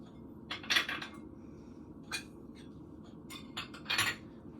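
A metal spoon picked up amid light clinks of cutlery and dishes beside a bowl of she-crab soup, a few short bright taps spread over a quiet room hum, close by and fairly soft.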